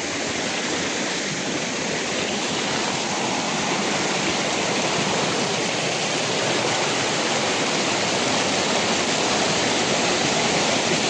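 Stream water flowing in a hillside river in Gulmi, a dense steady rushing and gurgling, close and constant throughout with no talking.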